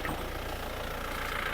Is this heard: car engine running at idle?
yes